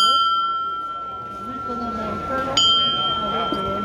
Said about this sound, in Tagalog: Ayan, mga kampana.